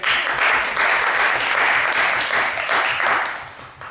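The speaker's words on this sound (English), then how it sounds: "I think we should give them a clap, don't you?" An audience at a workshop session claps for a group, a steady burst of applause that holds evenly and then tapers off toward the end.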